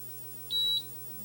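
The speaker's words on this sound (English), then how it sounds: "I mean, why did it beep for a second" A multimeter gives one short, clear high beep lasting about a quarter second while probing a detector diode in a 1964 Sony 9-304U television, against a low, steady hum.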